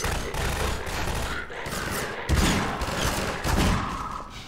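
Revolver shots fired in the Half-Life 2 video game: loud, close, booming reports landing over a continuous bed of game noise and other gunfire, with the heaviest blasts arriving a little over a second apart.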